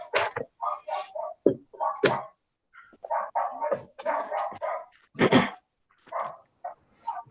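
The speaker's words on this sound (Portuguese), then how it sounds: "Não, é o cachorro da vizinha." A neighbour's dog barks repeatedly nearby in short, uneven bursts of woofs and yips, loud and close with brief pauses between barks, no talk over it.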